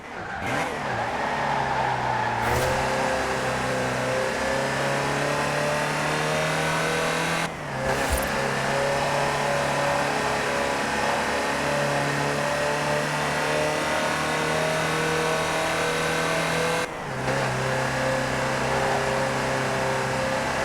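A Land Rover Type 3 engine drives in Forza Horizon 4, a loud continuous mid-pitched drone that climbs through the revs and briefly dips at gear changes, steady and up close with no talking.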